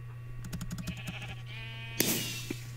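Several blocky sheep in Minecraft bleat in a busy cluster of short overlapping calls over a steady game hum, followed by a loud burst of noise near the end, with no talking.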